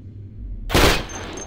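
Automatic gunfire in Cataclysm: Dark Days Ahead, a single loud, dense burst that erupts after a quiet stretch, then fades into a lingering tail with a faint high tone.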